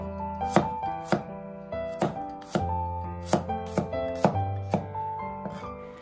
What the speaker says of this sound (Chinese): 再准备几颗蒜子，将它切成薄片